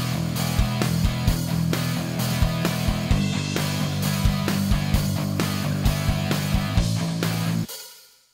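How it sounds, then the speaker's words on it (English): Two layered electric guitars with slightly different tones, panned hard left and right, play a thick, steady riff over a regular beat, filling the sound before stopping abruptly. "I'm gonna double that guitar with a slightly different sound"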